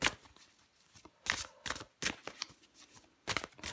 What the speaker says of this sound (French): je prends encore une carte pour vous, les cancers.